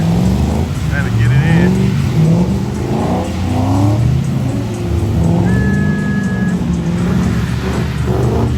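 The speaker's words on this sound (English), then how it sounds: "Drifting out there, trying to get it in." A drifting car at a car meet in South Africa, its engine revving in surges under a steady motor drone, with a brief high tire squeal partway through; people talk over the noise throughout.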